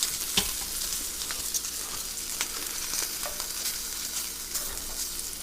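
Browned oxtail pieces go into a hot pot and sear, giving a steady close sizzle with a few sharp crackles and utensil knocks, no voices.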